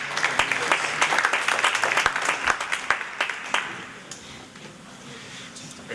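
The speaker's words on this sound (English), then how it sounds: "Let's give them a round of applause." Audience applause for high school student startup competitors at an evening school-district startup competition, a dense burst of clapping that fades after about three seconds into quieter room noise.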